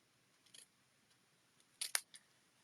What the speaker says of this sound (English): I think I'm just going to snip it.